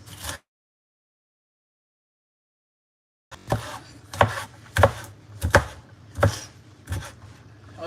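Peppers and onions chopped on a board, a brief cut, then about three seconds of silence before a run of firm, irregular knife strikes up close, roughly seven or eight chops, with no talk.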